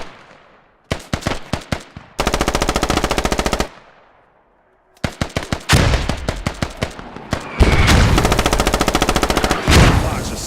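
Machine-gun fire and explosions in a competitive shooter match on the map Logar, with long rapid bursts of gunfire broken by short pauses and heavy booms, loud and close.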